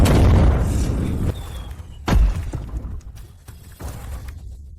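Cannon fire in a film battle scene, with two heavy booms a couple of seconds apart, each followed by a rumbling decay and quieter scattered noise.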